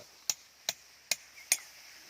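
Four sharp, evenly spaced hammer strikes ring out on a chisel cutting bamboo branch cuttings, each a crisp, close knock with a quick decay into quiet.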